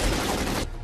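Gunfire in the video game Syphon Filter: Dark Mirror, a loud, dense burst of shots lasting most of a second before cutting off abruptly into a quieter tail.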